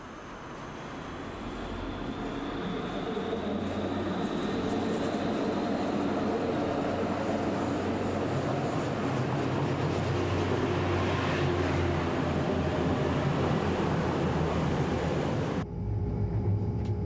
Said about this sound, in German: Ausfahrt im Hauptbahnhof